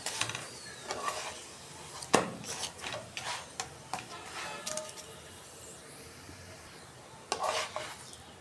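Rohu fish fries quietly in oil in a pan while a utensil scrapes and taps against it now and then, with intermittent crackles up close.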